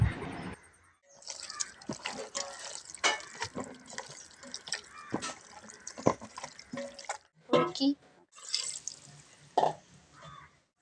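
Water poured into pork curry cooking outdoors, Kerala style, sounds as close, scattered drips and splashes between clinks and handling noises, with short bursts of louder pouring.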